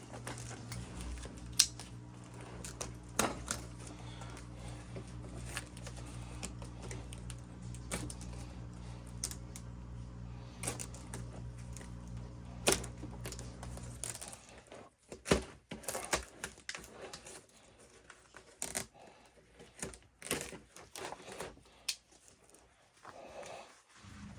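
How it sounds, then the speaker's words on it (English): Sticky duct tape being peeled and unwound from a BR 700 chainsaw, a run of close, irregular crackling rips and tearing snaps with brief pauses, over a low steady hum. "we're going to start by undoing the big wad of duct tape they got going on here"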